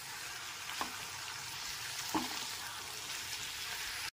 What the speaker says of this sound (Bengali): চিনিটা দিয়েও খুব ভালো মতো মিশিয়ে নিতে হবে।